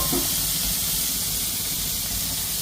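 Onions, curry leaves and green chillies frying in a pan, a steady close sizzle and hiss running the whole time with no voices.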